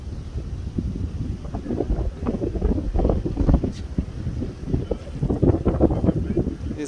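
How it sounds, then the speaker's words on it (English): Wind at an African safari lodge among coconut trees, gusting buffets against the microphone in an uneven, rumbling roar, close and fairly loud throughout. "That tells you it's windy, and it feels pretty good out here in the wind."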